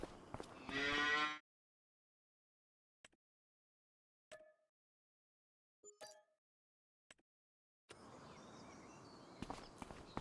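Cows in a farming video game give one loud, drawn-out moo up front, followed by a few short, faint clicks and animal sounds amid near silence, then a low, steady farmyard ambience with occasional thuds.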